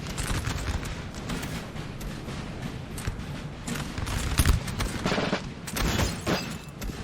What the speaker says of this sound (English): Now they are getting shot at as they're advancing to that LOC